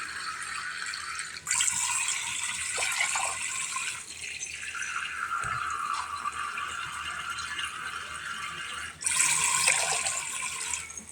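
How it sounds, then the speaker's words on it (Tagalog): Tap water pours into a cooking pot in a steady hissing stream for several seconds, stopping briefly and then resuming at full strength. "So, maglalagay po tayo ng tubig. Mga 5 tasa lang guys."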